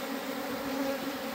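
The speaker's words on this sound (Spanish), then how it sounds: "Todo parece que vamos a tener éxito en este rescate de este enjambre que andaba por ahí errabundo." A honeybee swarm being rescued into a hive fills the air with a dense, continuous buzzing hum that stays even and close.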